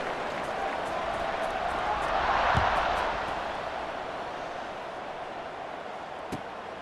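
A stadium crowd roars in the EA Sports College Football 26 video game, a broad, distant wash of cheering that swells and fades before a kickoff, with a commentator talking quietly over it.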